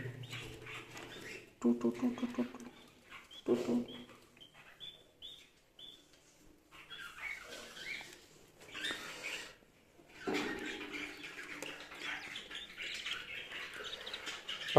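Small pet birds chirping and tweeting in scattered bursts, mixed with voices talking nearby and some handling noise.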